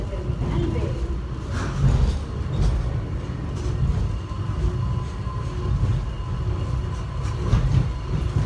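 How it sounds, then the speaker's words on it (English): A subway train pulls into a station with a steady rumble of wheels and cars, a continuous moderately loud roar throughout with faint clicks of track over it, heard from nearby on the platform or inside a train. "The other train's arriving also."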